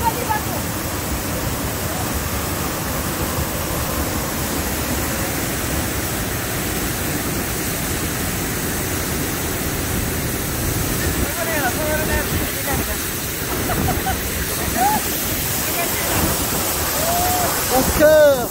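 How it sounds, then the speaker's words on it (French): Steady, dense roar of the Ouzoud waterfalls in Morocco, close and unbroken for the whole stretch, with faint voices of visitors blending into the rush. "Au cœur de la cascade,"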